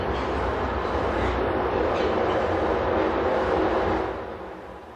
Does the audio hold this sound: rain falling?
no